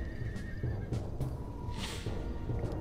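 A horse neighs in the fantasy video game Sacred Gold, a clear whinny over steady clip-clop hoofbeats and soft ambient game sound.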